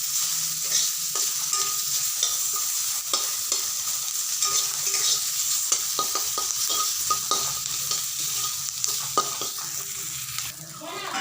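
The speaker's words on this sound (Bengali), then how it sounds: "ভালো করে মচমচা করে ভাজতে হবে" Neem leaves frying until crisp in hot oil, a steady close sizzle with scattered pops and stirring scrapes throughout, no talking.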